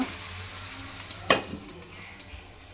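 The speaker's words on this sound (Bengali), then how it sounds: "একটু আলু ভাজা ভাজা তো তরকারি করবো" Potatoes frying in oil in a pan, with a continuous close sizzle and a few sharp clinks of a spatula stirring them.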